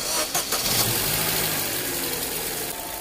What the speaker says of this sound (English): Okay, the engine started.